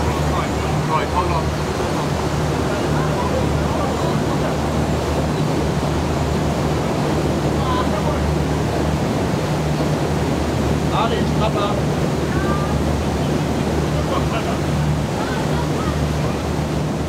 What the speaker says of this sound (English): Opening the next lock gate before the water's even at level.